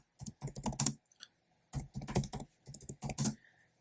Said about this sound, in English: So I'm going to type the sigmoid equation here